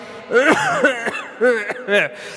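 A storyteller imitates a boy's cough from a cold, giving a few short voiced coughing bursts close to the microphone.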